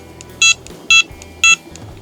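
A Prologic SMX carp-fishing bite alarm gives three short, evenly spaced electronic beeps, bright and close, over a faint low background hum, with no speech.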